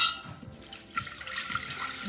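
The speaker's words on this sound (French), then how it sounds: "Donc là, on va mettre 600 g d'eau." 600 g of water pouring into a Thermomix bowl for a lemon-dill sauce: a short, quiet splash and trickle of running liquid that fades slightly, with no talking.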